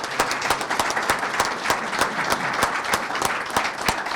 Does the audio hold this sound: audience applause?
yes